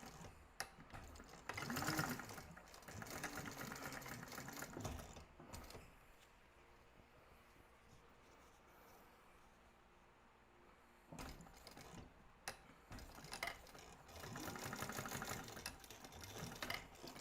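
A sewing machine top-stitches a seam on a crossbody bag, two quiet bursts of rapid mechanical stitching with a pause between them.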